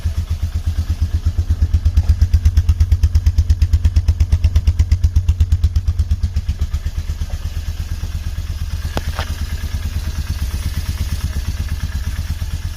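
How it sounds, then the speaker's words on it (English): A Polaris Trailblazer ATV engine idles close by, a steady rhythmic low putter with regular pulses and slight clatter, easing a little lower partway through and joined by a brief sharp tap near the end. "Idling pretty good."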